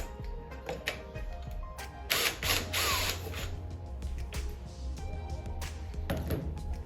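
A ratchet works on the end cap of a 2010–2015 Lexus RX450h hybrid battery module, producing steady mechanical clicking and grinding with a few louder metallic bursts, up close and without talk.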